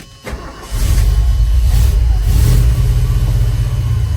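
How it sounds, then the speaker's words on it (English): A 1977 Ford F150 truck with a 4-speed engine cranks briefly, catches and settles into a loud, steady, close rumble with a slight rise in revs partway through. "Truck runs good."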